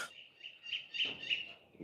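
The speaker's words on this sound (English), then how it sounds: "There's a very angry bird right now." An agitated bird calls repeatedly in sharp, high chirps, fairly faint and a little distant, in bursts over roughly two seconds with no talk.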